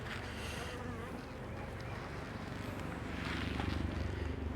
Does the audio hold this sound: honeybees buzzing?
yes